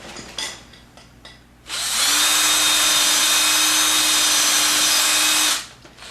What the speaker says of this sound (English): And as I'm drilling